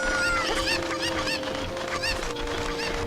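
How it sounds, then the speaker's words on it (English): Chickens in Zelda: Ocarina of Time cluck and squawk in rapid, repeated bursts over a steady game background tone, fairly loud and continuous. "And then huck the chickens."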